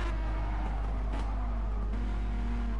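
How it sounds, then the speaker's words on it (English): A racing car engine downshifting to second gear in Gran Turismo Sport, during a multiclass night endurance race at Bathurst. It makes a steady, loud engine drone with a slight shift in pitch partway through. "Back down to second gear."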